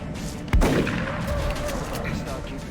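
A soldier firing a weapon in the video game XCOM, one sharp loud shot followed by a rumbling tail under ongoing game sound, with a voice talking.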